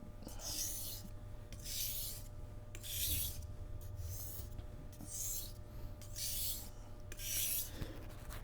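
A petty knife is sharpened on a whetstone, its bevel drawn in repeated strokes: about seven regular scraping rasps, each roughly half a second long, close and fairly quiet.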